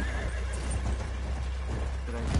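A horse in a video game neighs and whinnies against a steady, loud background rumble, with faint hoof clip-clops running through the short stretch.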